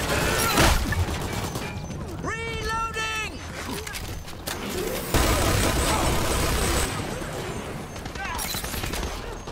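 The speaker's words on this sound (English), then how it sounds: "There may be some delays due to exploded rail carriages on the line." Rail carriage explodes in the Dirty Bomb shooter game in the Terminal area, a loud blast and crashing debris amid dense gunfire and clatter, with a voice talking over the chaotic battle noise.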